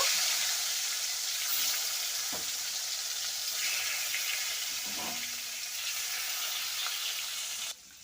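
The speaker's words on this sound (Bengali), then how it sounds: "তো আমি মাছগুলো ভেজে নেব।" Loud continuous sizzling of rui fish frying in hot oil in a kadai, with a few soft clinks of utensils against the pan, nearby and uninterrupted.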